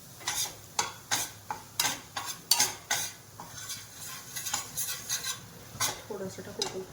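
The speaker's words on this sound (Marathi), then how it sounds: "दीड चमचा मैदा घातला. चांगलं याला गरम करून घ्यायचंय." Flour roasts in a pan as the base for white sauce pasta, stirred in quick, rhythmic scraping strokes that repeat about every half second over a low sizzle, with light metal clinks of the spoon.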